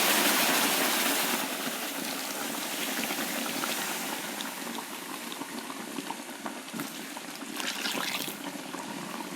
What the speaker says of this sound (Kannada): ನೀರು ಚೆಂದ ಕುದೀತಾ ಉಂಟು